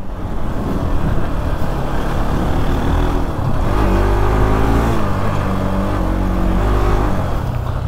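Dirt bike engine revving hard during off-road riding in sub-zero cold, a loud, continuous close-up roar whose pitch climbs and wavers midway, with no talk over it.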